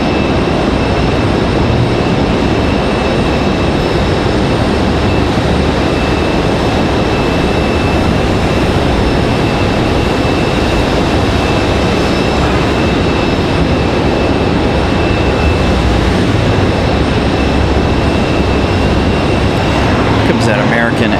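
Steady, loud, broadband engine roar from an American airliner on the runway at Raleigh-Durham International Airport, continuous and unbroken throughout.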